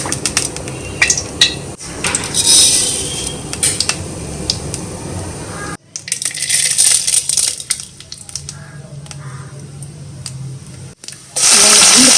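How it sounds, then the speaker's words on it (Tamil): Mustard seeds and urad dal frying in a little oil in a kadai: a loud, busy sizzle with scattered pops and crackles, broken by metal clatter from the pan and a spoon. "ஒரு குடாயில் கொஞ்சமாக எண்ணெய் ஊற்றிட்டு கொஞ்சமாக கடுகு உளுத்த பருப்பு போட்டுக்கலாம்"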